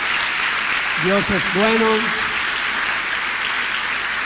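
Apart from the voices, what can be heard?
applause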